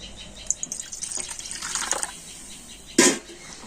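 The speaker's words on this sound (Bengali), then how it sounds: "এবার আমি একটা বাটিতে একটুখানি জল নিয়ে নেব" A little water trickles and splashes into a bowl in a kitchen, a short close pour with light drips and one brief louder splash near the end.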